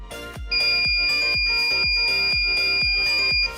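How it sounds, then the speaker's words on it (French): An Arduino buzzer triggered by a PIR motion sensor sounds a loud continuous electronic tone under a steady pounding beat, sharp repeated thumps about every half second behind the shrill buzz. "vous allez voir que notre buzzer va retentir"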